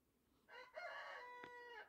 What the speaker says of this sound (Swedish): Eller tuppen Agda